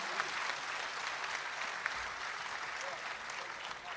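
Applause from an audience at a poetry recitation for Urdu poet Rahat Indori, a steady, dense wash of clapping that holds evenly at a moderate, somewhat distant level throughout.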